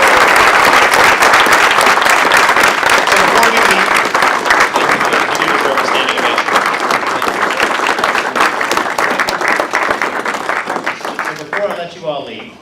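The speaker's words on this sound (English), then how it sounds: "let's give Jake a round of applause." An audience at a speaker-series talk breaks into loud, sustained applause, dense clapping that holds steady and then thins out and fades near the end, with some voices mixed in.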